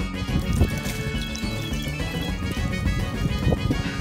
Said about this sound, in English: you had to pour some damn lemonade on me